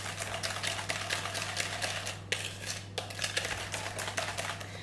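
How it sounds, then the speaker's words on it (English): A whisk beats vegan chocolate cake batter in a bowl, producing a fast, even train of light clicks and scrapes close up, with one sharper knock partway through. "now just start to give it a whisk until it's all nice and evenly mixed"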